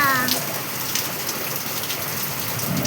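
A thunderstorm's downpour drums on surfaces in a thick, constant wash of rain, with a brief high whistle-like tone at the very start and no talking.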